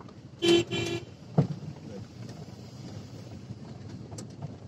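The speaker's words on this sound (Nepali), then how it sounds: "Give the horn." Two short car horn toots sound in quick succession during a driving lesson on a road in Nepal, fairly clear over a low background of road and engine noise.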